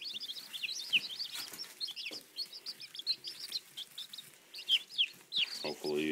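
Cornish Rock, Red Sex Link and Brown Leghorn chicks huddled together for warmth peep in quick, high, repeated cheeps, close and fairly soft, with a brief human voice near the end.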